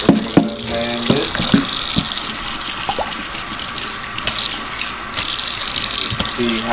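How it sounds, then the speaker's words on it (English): Warm tap water runs steadily from a faucet onto a green and blue wedge tie-dyed shirt during rinsing, a close splashing stream with a few handling clunks and brief knocks. "got some warm water on it"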